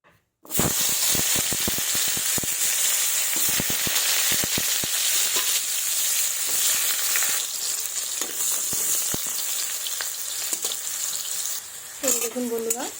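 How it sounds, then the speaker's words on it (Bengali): Pieces of sweet pumpkin sizzle loudly and steadily in hot oil in a pan, a dense continuous crackle with occasional sharper pops, running nearly the whole time before a brief voice at the very end. "এবার মিষ্টি কুমড়াটাকেও আমি ভেজে নেব।"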